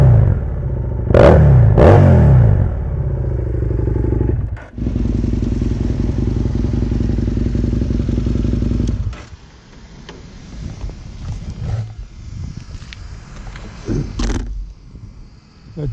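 Motorcycle engine idling and revving while parked, recorded up close by a GoPro 6 or Yi 4K+ action camera: a few sharp throttle blips, a steady loud rumble, then a softer rough idle with clattering mechanical noise.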